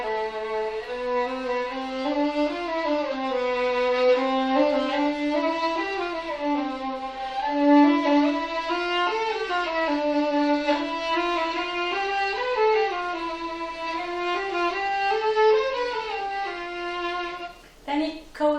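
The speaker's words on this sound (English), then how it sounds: "A subscriber is working on Sevcik op8" Solo violin plays a Sevcik op. 8 no. 1 shifting exercise, a continuous bowed line gliding between positions on one string, close and steady, with no talking.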